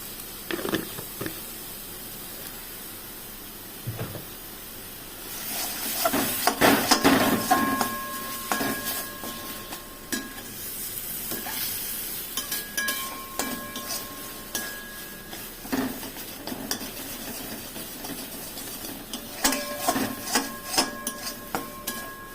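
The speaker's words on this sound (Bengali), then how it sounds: "ভেজে নিই" Rohu fish koftas fry in a pan with a soft sizzle beneath repeated scrapes and metallic clinks of a utensil stirring, in bursts with short pauses, close and clear with no talking.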